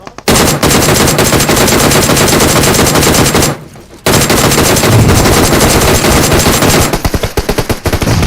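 Gunfire in the mobile battle-royale game PUBG Mobile: loud, dense automatic bursts rattle almost continuously, broken by a short pause and ending in a spaced string of individual shots.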